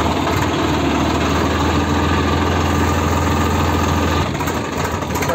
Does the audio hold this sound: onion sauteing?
no